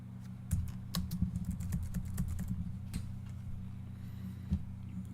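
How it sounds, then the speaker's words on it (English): Someone taps keys on a computer keyboard during an MS-DOS 6.22 session, with irregular clusters of sharp, close clicks and gaps between bursts. "Well, poke various F keys."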